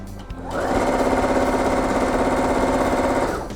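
A home sewing machine whirs into a steady, rapid stitching run for about three seconds, then slows to a stop with the needle down, close and fairly loud.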